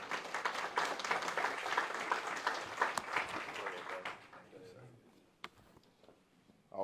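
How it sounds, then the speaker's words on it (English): Audience applause at a police department recognition event, a dense sustained clapping that fills the room for about four seconds, then dies away to quiet with a single late clap. "So let's give him a round of applause, Gerard Tate."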